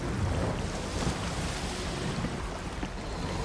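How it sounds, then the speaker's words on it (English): Ocean waves and wind wash steadily around a rowboat in the pirate video game Sea of Thieves, a dense, continuous roar of surf and water without talk. "I'm swimming in the water. I'm in the rowboat, dipping out."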